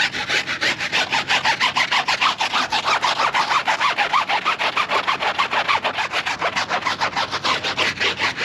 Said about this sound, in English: Then we go back with the tire brush. Harder bristle.